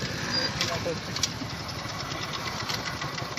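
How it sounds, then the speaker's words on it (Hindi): A Super Star 70cc motorcycle engine idles with a steady, rapid putter as the petrol runs out, close and continuous throughout. "आप इंजन की आवाज़ सुन सकते हैं।"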